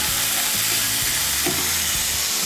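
Salt and turmeric are stirred into a sizzling pan while cooking doi chola, a Bengali chickpea dish, giving a constant loud frying hiss with faint scraping from the stirring.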